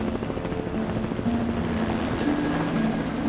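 A helicopter flies steadily overhead, its rotor thumping in a continuous, even drone with no voices.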